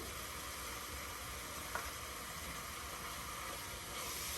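White onions sizzle steadily in a hot pan for a chili bean dish, a continuous loud frying hiss with a faint clink near the middle and no voices.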